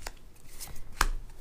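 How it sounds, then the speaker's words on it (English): Tarot cards being shuffled give soft, quiet riffling and shuffling sounds with one sharper tap of the deck, heard close up and alone. "One more good shuffle of these"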